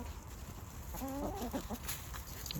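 Chickens cluck softly in a short burst of several quick notes, somewhat distant over a low background hum.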